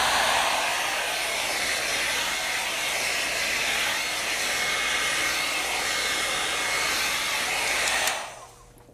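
A handheld hair dryer blows steadily at close range onto a cold-set wig, switching from cool air to low heat. The loud, even whoosh runs for about eight seconds, then stops and leaves a brief quiet tail.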